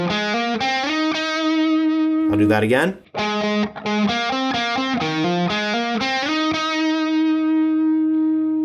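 D: A distorted electric guitar plays a riff, loud and close with quick repeated picked notes and a vibrato on the last note. A man breaks in briefly partway through, then the riff restarts.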